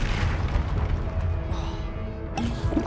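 A Confringo spell blast in Hogwarts Legacy, a dense, loud booming explosion that rumbles continuously with a sharp fresh burst near the end.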